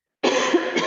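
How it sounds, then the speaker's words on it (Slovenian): A single woman clears her throat abruptly after a moment of silence, a close, raspy, sustained rough sound lasting most of a second. "Tam mičkeno se moram odkašljati."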